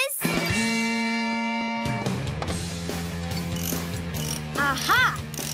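Cartoon wrench turning a mechanism, a ratcheting, clanking mechanical sound with tonal sustained notes and squeaky chirps, close and fairly loud over a music-like background.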